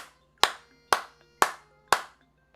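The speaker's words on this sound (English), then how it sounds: "Hey, clap it up." Four sharp, evenly spaced hand claps ring out alone and close by, each about half a second apart, with a quiet background between them.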